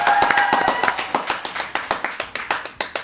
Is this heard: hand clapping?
yes